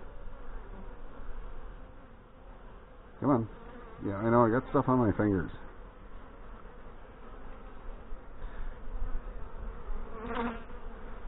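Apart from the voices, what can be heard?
honey bees buzzing at an open hive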